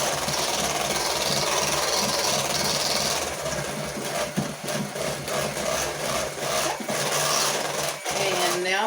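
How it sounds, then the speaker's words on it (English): An electric mixer whirs steadily through strawberry cupcake batter, a continuous motor drone and hiss that fades near the end, while a voice talks over it. "we are going to turn our mixer off"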